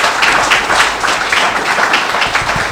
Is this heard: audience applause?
yes